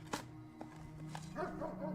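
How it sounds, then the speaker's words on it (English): Dog barking in the video game Blue Prince, a few short spaced barks over background game music and tones. "incoming dog barking."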